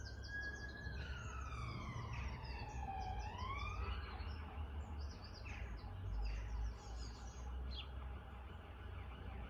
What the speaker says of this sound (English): Nice alarms there, nice sirens.